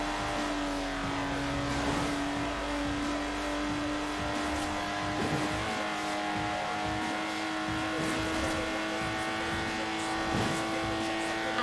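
A Lotus Exige in the racing game Forza Horizon 4, its engine droning and revving hard under acceleration, with pitch climbing and dipping through gear changes in a sustained, prominent roar.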